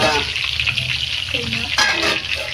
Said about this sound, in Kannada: ನಮ್ಮ ಅತ್ತೆ ಫ್ರೈ ಮಾಡ್ತಾರೆ ನೋಡಿ